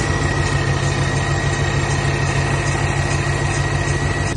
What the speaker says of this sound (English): it typically is just clanking